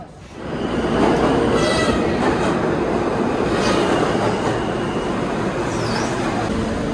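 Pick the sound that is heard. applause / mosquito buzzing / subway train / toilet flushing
subway train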